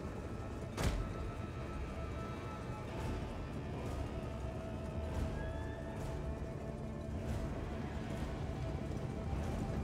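Horses galloping across a battlefield in the video game Total War: Arena, a steady low rumble of hooves with scattered clatter, one sharp impact near the start, faint and continuous in the game mix.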